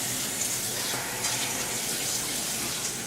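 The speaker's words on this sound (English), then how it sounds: "I'm going to go ahead and rinse these off." Tap water runs steadily over food being rinsed at a kitchen sink while crab cakes are prepared, a continuous close hiss and splash with no talking.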